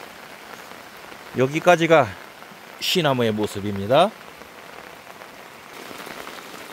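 Steady rain falling outdoors around trees, a constant soft hiss throughout, with someone speaking over it in two short stretches.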